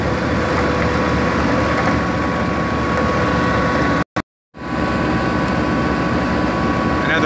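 TYM tractor with a 54-inch Berco snowblower attachment, the engine droning loud and steady with a constant mechanical hum, cut by a brief dropout near the middle before the running noise resumes.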